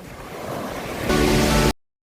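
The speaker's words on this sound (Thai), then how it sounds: "ฟัง เสียงคลื่นทะเลไปเรื่อย ๆ" Steady roar of surf washing onto a beach at Sattahip, Chonburi, Thailand, swelling louder near the end before cutting off abruptly.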